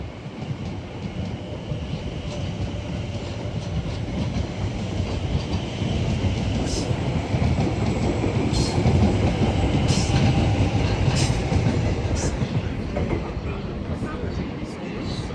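Electric British Rail Class 701 train 701057 pulls away from Clapham Junction station with a steady, swelling rumble and rattle of wheels on rails, growing a little louder mid-way and holding close, with a few faint higher clicks over the top.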